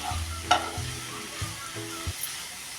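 A spoon stirs grated radish in a hot pan, making several distinct scraping strokes over a low, steady sizzle, close and clear with no talk.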